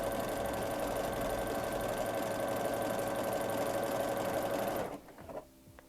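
A sewing machine stitches along a fabric edge in a steady, fast whirring hum for about five seconds, then stops abruptly, leaving a few faint clicks and handling sounds.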